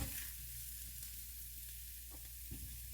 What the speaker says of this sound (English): we can put a little bit of oil in there and heat up my sausage